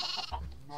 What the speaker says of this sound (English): I just got 2 actual sheep